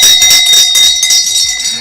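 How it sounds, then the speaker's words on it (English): A bell rings out on an FM radio broadcast in Abuja, a loud, sustained metallic ringing with rapid pulsing strikes that fills the short moment alone. "Okay, listen to the bell."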